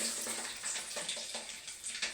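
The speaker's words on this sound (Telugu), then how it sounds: "ఆవాలు తెల్లగడ్డలు వేస్తున్నాను." Mustard seeds and garlic sizzle and crackle faintly in hot oil, a soft, continuous frying hiss broken by small pops.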